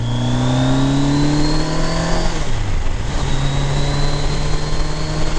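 A 1987 Kawasaki ZG1000 Concours motorcycle engine pulls hard, its pitch climbing steadily, dipping briefly at a gear change, then rising again, loud and continuous with wind rush behind it.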